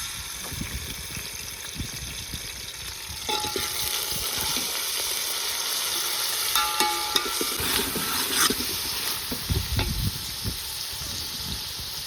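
Ground masala paste sizzles and fries in hot oil in a pot for Kolhapuri mutton, with continuous hissing and crackling and occasional scraping of a stirring spoon, close up, with no talking.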